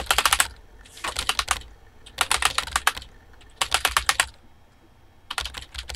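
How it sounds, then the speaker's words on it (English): Quick bursts of typing sweep across a computer keyboard during the game Emily Is Away, four clustered runs of sharp close key clicks separated by brief pauses. "And I just went across the keyboard."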